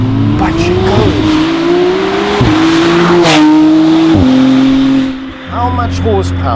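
McLaren Artura with a 3-litre V6 and Novitec exhaust accelerating hard through several gear changes, a loud, close engine note climbing in pitch with brief shift dips, while someone talks over it.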